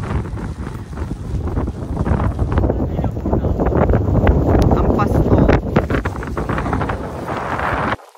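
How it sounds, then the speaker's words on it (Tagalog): Strong wind on Mt. Sembrano buffets the microphone with a steady loud roar and gusting rumble for about eight seconds, stopping abruptly at the end. "Enjoy na lang ang lakas na hangin sa mundo."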